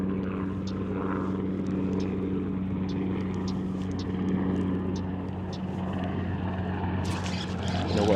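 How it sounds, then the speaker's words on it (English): An airplane drones overhead as a steady, low, continuous hum behind a kayak fishing trip on a Florida lake, with faint water and small handling sounds on top. "Sorry about the airplane noise in the background."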